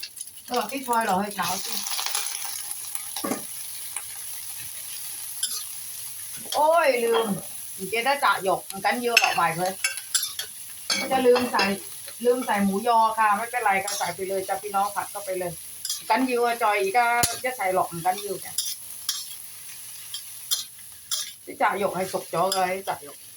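Egg stir-fried in a pan for a simple noodle stir-fry, with a steady sizzle and bursts of spatula scraping and clinking against the pan, while someone talks at intervals over the cooking.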